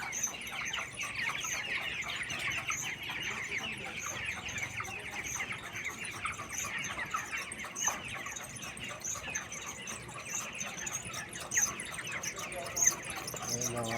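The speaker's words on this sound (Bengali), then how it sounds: "আমার ব্রয়লার মুরগির বাচ্চা আজকে 24 দিন।" A flock of 24-day-old broiler chickens on a poultry farm fills the space with a constant, soft chorus of clucks and peeps, with a few sharper calls standing out near the end.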